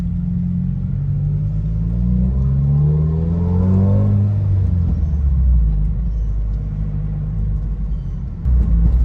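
A 2020 Subaru WRX being driven, its engine rumbling loudly from inside the cabin, rising through the revs and easing back with gear changes under steady road noise, with no voices.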